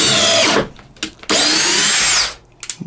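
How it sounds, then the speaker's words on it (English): A DeWalt 20V compact drill drives screws into wood in two loud, close bursts of high whirring, the second longer, separated by brief clicks and followed by light handling sounds. "It definitely puts them screws in with more power."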